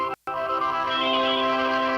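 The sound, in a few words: phone line ringing before a recorded She-Hulk message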